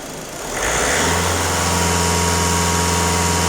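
A warmed-up VW Golf 1.6 TDI diesel engine rises from idle and holds a steady rev at about 2500 rpm, a loud, even drone close by with no talk.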